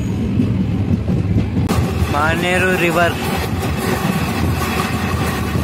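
Kazipet–Balharshah express train running at speed, with a loud, continuous rumble and rattle of the carriages; a voice speaks briefly over the steady noise.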